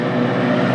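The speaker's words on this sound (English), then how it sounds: "Working his tractor." A farm tractor engine drones steadily and loudly close by, an even, humming motor tone with no break over a brief moment.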